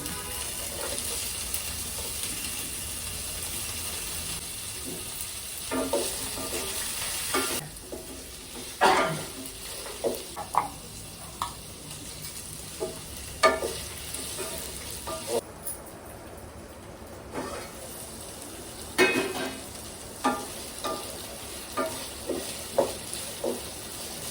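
Beans and onions sizzling in a pan, a low steady fry with repeated clinks and scrapes of a spoon stirring, close and without talk.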